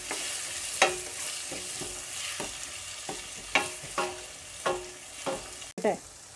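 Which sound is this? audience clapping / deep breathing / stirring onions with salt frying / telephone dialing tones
stirring onions with salt frying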